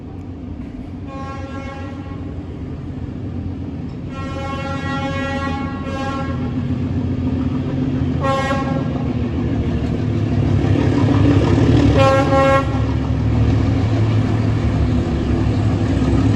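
A train draws nearer through a Vietnamese setting, its horn sounding several times in long and short blasts over a steady rumble that grows louder as it approaches.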